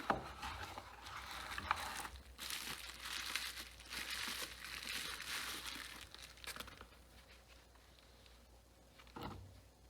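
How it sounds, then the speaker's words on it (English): Packaging for a Gould RC motor and ESC being unwrapped, with steady crinkling and rustling of plastic and paper close up for several seconds, easing off toward the end with a few sharper handling noises. "Gonna unbox the Gould RC motor and ESC"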